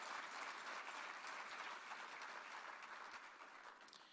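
Sustained audience applause fills the room at a tribute event honoring small businesses, a dense steady wash of many hands clapping that fades slightly toward the end, with no talk over it.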